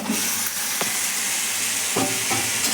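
Meat tipped into a hot pan with Kashmiri chili sizzles loudly and continuously, with a few scraping stirs along the way. Close, dense frying hiss with no talking.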